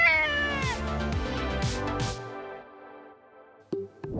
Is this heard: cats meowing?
yes